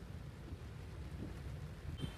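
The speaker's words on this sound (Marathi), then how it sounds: "खूप जास्तच पाऊस येतो" Heavy rain falls steadily outside a car on the way to a mall, a dense low wash of noise with a dull rumble, close and fairly loud through the whole short stretch.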